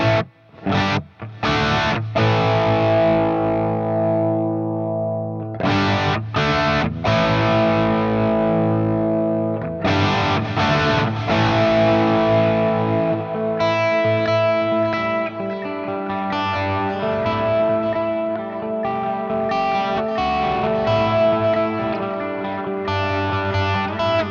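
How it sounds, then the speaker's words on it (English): Distorted electric guitar through a modeler plays sustained chords and notes through heavy delay and reverb, echoes trailing and building into a thick wash, loud and continuous without voices. "having the delay and reverb there mapped to your expression pedal"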